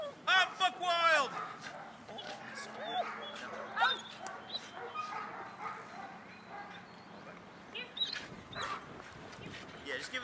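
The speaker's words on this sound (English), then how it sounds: "Such a good dog." A dog barks and yips in a few short bursts near the start, then whimpers more faintly beneath ongoing cheerful human talk.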